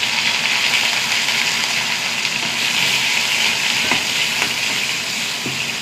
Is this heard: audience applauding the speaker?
no